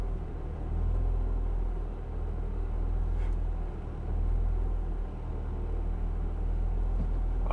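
A powerful manual car pulls away in first gear, a steady low engine rumble swelling and easing as it accelerates, heard from nearby with no voices.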